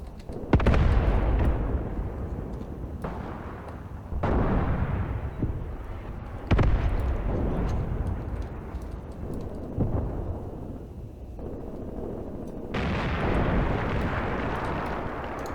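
A WWII anti-tank gun fires at tanks in the Graviteam Tactics Mius wargame. Several heavy, booming shots land seconds apart, each with a long rumbling decay, loud and close, with no talking.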